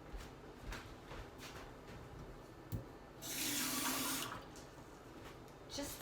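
A kitchen tap runs for about a second in a short burst, adding water to thick vegan pancake batter, with faint talk and kitchen noise before and after.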